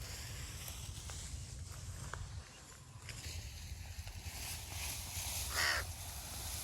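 Crows caw over village fields in the evening, scattered calls near and far over a low steady rural background with a few soft footsteps.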